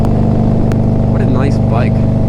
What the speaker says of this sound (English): The pipes sound good.